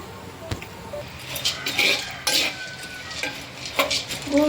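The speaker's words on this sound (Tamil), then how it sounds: "ஓகே, இப்போ இதை நம்ம இந்த மாதிரி ரோஸ்ட் பண்ணி எடுத்துக்கலாம்" A sweet mixture is stirred and roasted in a pan, with intermittent scraping and light metallic clinks of a spoon against the pan over a low frying sizzle, close and moderately loud.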